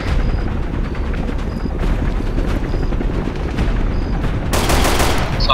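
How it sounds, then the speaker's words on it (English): Helicopter arriving in the video game Arma 3, its loud low rotor drone running throughout amid bursts of gunfire and booms, with a sharp blast near the end. "Chopper coming in."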